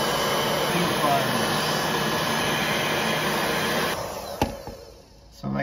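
A heat gun blows steadily while shrinking heat shrink tubing over a repaired wire, giving a loud, close, continuous rushing hiss that drops away near the end, followed by a faint click.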